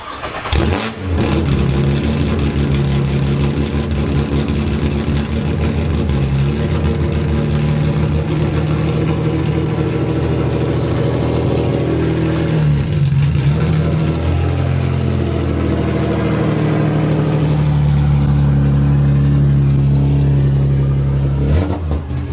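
A freshly rebuilt, cammed Infiniti G35 drives off, its engine loud and close, climbing and dropping through revs with a rough, lumpy drone that swells again toward the end.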